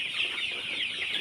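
Sonali chickens on a poultry farm clucking in a dense, overlapping flock chorus, close and continuous through the short stretch, with no talk.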